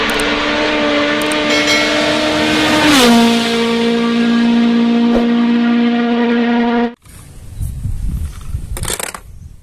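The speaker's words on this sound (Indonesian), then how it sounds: "Wow, lihat ada mobil balap." A toy racing car gives a loud, steady electronic engine hum. Its pitch drops once partway through and then holds until the sound cuts off abruptly, leaving quieter handling noise and clicks.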